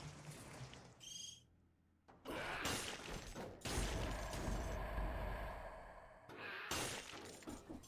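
Shrill bird-like cries and shattering hits from bird enemies in the Dead Cells video game, arriving in several loud bursts over a busy backdrop of combat effects and music.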